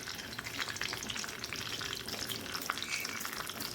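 Mustard seeds crackle and pop in hot coconut oil in a pan, a dense, close spatter of sharp little bursts over a constant sizzle.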